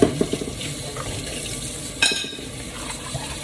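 Tap water runs into a sink while dishes are washed by hand, a continuous splashing stream. A couple of sharper clinks and splashes stand out, and no one speaks.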